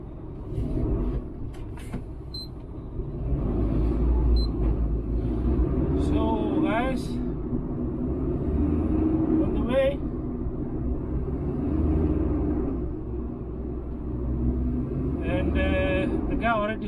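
Liebherr LTM 1130-5.1 mobile crane driving on a road, a steady deep engine and road rumble throughout with brief hissing and squeaking bursts, as of air brakes, and people talking over it.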